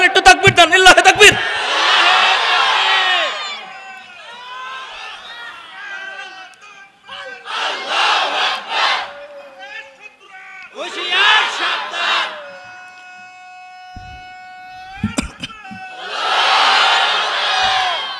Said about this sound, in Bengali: দেখি কারা কারা রাজি আছেন, একটু তাকবীর দেন, লিল্লাহি তাকবীর।